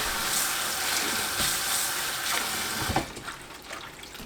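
Peppers are rinsed under a steadily running kitchen tap, a continuous close splashing rush of water into a sink that eases and turns more broken toward the end, with no talking.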